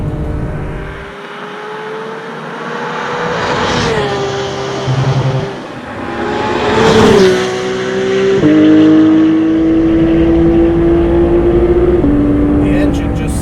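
Porsche 991.2 GT3 RS engine pulling hard while driving, rising and falling pitch as it revs through gears, loud and close, with someone talking over it.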